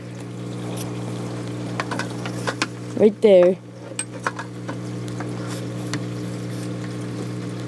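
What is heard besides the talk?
return pump pushing water back through PVC pipe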